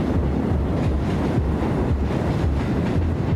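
A moving train in the game Fright Train rumbles steadily and loudly throughout, with low rhythmic clatter and a constant wind-like rush and no talking.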